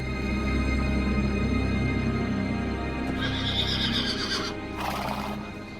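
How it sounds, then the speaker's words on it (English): A panicked stallion neighs in two shrill, drawn-out whinnies over a steady background of hooves and ambient noise, with a clip-clop of hooves throughout. "Only Alexander understood why the horse was in a panic."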